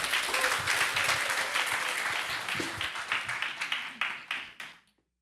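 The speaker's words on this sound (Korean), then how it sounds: "우리 박수로 한번 우리 초대하겠습니다." A church congregation at a Sunday worship service claps together, a dense burst of many hands that thins into a few scattered claps before fading to silence.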